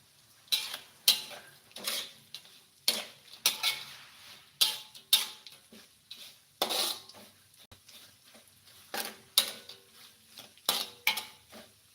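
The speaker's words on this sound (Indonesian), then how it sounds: "Kita goreng dulu ikan asinnya." Salted fish frying in a wok with oil, heard as a series of sharp metallic scrapes and clanks of a utensil against the pan, irregular and close, with faint sizzling underneath and no talk.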